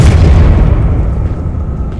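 An explosive Confringo spell blast in the video game Hogwarts Legacy: a loud, deep boom that hits at once and then rumbles away over about two seconds.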